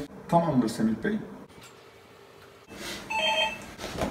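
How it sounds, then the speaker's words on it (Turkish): A telephone rings in a hotel room, its bursts of electronic ringing coming before and after a short spoken exchange, with someone talking over part of it. "o telefon 5 dakikada bir çalıyor"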